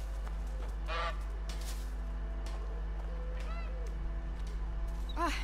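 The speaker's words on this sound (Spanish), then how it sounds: "Está hablando con la oca." Goose honks ring out in the medieval French farmhouse scene of the game A Plague Tale: Innocence, a few loud nasal calls spaced across a steady low hum and quiet background sound.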